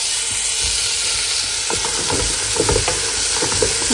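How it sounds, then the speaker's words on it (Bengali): Rice fries in ghee with bay leaves, ginger-garlic paste nearby for biryani, a constant close sizzle with scattered stirring scrapes and crackles layered over it. "ঘি দিয়ে চালটা ভেজে নিই"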